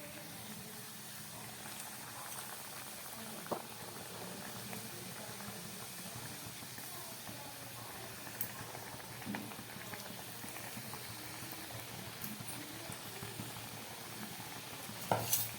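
Rolled tiffin items frying in hot soybean oil, a soft continuous bubbling sizzle at low level, close, with a few faint clinks near the end and no talk.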